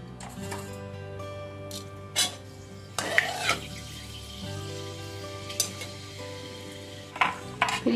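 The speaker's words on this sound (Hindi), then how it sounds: "मैं इसको मैं दूंगी मेथी का तड़का।" Fenugreek seeds tempering in hot oil in a kadhai, a low steady sizzle with scattered metallic clinks and stirring scrapes from a spoon against the pan, close and moderately quiet.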